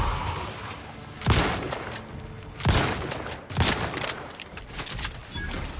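Gunfire in the video game The Outer Worlds: three heavy bursts of shots about a second apart, loud and close, with reverberating tails between them.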